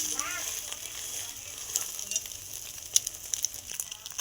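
Egg toast frying in a kadai, a soft continuous sizzle with faint crackles and scattered clicks, quiet and close.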